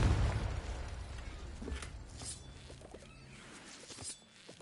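A Confringo fire spell explodes in Hogwarts Legacy: a heavy burst at the start fades into rumbling debris, followed by a few smaller pops and crackles.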